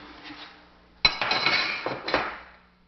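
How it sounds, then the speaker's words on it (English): An AK-47 receiver cover comes off and the recoil spring is pulled out during a field strip, giving a sharp metallic clink followed by rattling, scraping metal parts close up, then another clack before fading. "you can push this in and remove the recoil spring"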